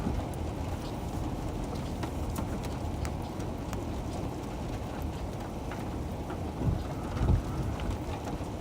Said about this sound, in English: There's some fairly large raindrops.